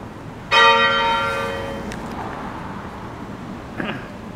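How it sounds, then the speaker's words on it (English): One church bell strike of Holy Trinity Church, Holmfirth, rings out clearly and decays over a couple of seconds, followed by faint outdoor background noise and a soft distant knock. "I'm going to video these church bells ringing"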